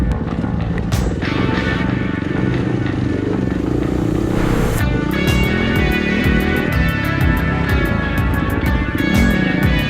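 Dirt bikes, including a Yamaha WR250R, KTM and Beta, ride a forest trail in Ourimbah State Forest. A close, loud engine drones continuously with revving shifts, while a voice talks over it and bursts of wind noise come through.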